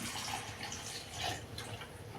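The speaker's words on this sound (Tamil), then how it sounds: "கொஞ்சம் தண்ணி சேர்த்துங்க தேவையான அளவு." Water splashes and trickles steadily into a pot of chicken gravy, a soft continuous pour with no voices.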